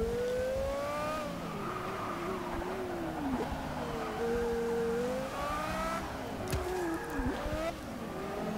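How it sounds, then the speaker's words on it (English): In Forza 6, a Porsche Carrera GT's V10 engine wails through the gears during a race, climbing in pitch, dropping at each shift, then climbing again, loud and continuous with faint tire noise. "Absolutely love the engine in this car."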